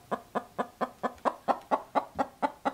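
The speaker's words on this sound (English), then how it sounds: "That was a chicken." A chicken clucks in a steady run of about a dozen evenly spaced, close, clear clucks with no other sounds.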